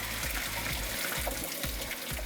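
Water pouring and splashing steadily as cooked pasta is drained through a strainer set on top of the pot, a continuous close gush with no speech.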